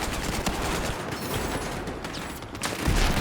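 Sustained gunfire in a Battlefield 4 match, dense rapid bursts of automatic shots rattling continuously with a few louder cracks, no voices.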